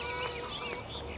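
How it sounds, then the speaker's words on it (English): A rooster crows in Farming Simulator 2013, a short, moderately loud call with rising and falling tones over steady background noise. "Shut up, rooster."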